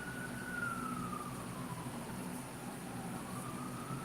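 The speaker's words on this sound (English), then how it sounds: "I don't know if you can hear the police sirens" Police car sirens in Mexico wail faintly in the distance, one steady rising-and-falling tone drifting over a low background hum.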